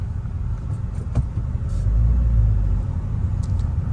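A manual-transmission family car being driven, with a steady low engine and road rumble that swells slightly midway, heard from inside the cabin, with a few faint clicks and no voices.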